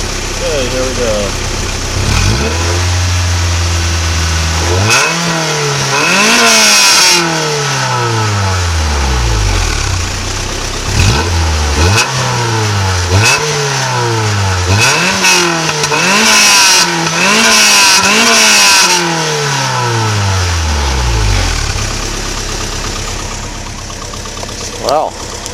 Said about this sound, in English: we're going to see how the stock exhaust sounds on the MR2